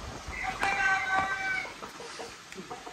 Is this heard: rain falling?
no